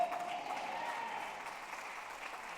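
A church congregation applauds in steady, sustained clapping that fills the room for the whole stretch, loud and even, tapering only slightly toward the end.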